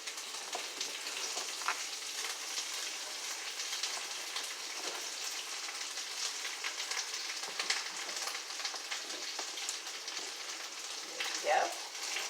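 Smoked turkey hash ingredients fry in a skillet with a constant, fine crackling sizzle like light rain, steady and moderately quiet throughout, with a brief clatter near the end.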